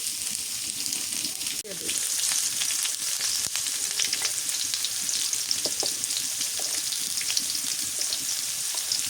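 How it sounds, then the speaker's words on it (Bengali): Raw papaya sizzles and crackles steadily in hot oil, a continuous frying hiss with occasional stirring sounds. "পেঁপেটা তেলে ভাজলে কি হয়"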